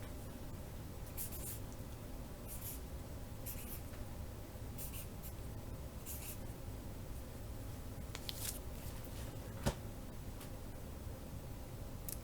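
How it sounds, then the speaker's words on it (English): A name being written by hand, soft scratchy pen or pencil strokes in short bursts at close range over a quiet background, with no talking. "I'm going to write my name here"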